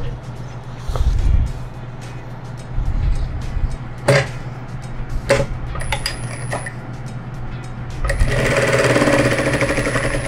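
A sewing machine runs in short bursts while stitching a placemat and reversing at the corner to backstitch, with clicks and clatter between runs and a louder steady whir at the end; a person talks in between.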